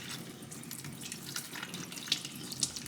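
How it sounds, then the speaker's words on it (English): Mushrooms are rinsed under a running kitchen tap, a soft, steady stream of water with a couple of faint clinks, heard quietly and close by. "I'm washing up some mushrooms to cut to add into our miso cream pasta."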